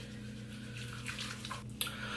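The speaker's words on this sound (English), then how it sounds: "And then I'm just gonna add some water to get it a little foamy." Running water from a tap, a steady soft hiss with faint splashing and a brief clink near the end, added to face wash to work it into foam.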